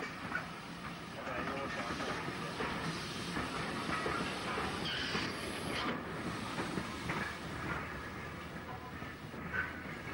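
Isle of Wight steam railway train rolling along the track with rhythmic clickety-clack wheel noise, a soft hiss and a faint brief squeal, steady and moderately distant.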